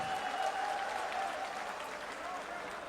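Crowd clapping at a large Vishwakarma community gathering, a steady wash of applause at moderate level with a faint tonal hum and some voices mixed in.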